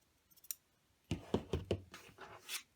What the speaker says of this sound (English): Then you trim the excess off of the bottom where the feet are.